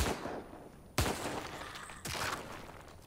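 Two heavy gunshots in the survival-horror game The Evil Within 2, each a sharp broadband crack about a second apart with a lingering tail, followed by a rough roar of combat noise.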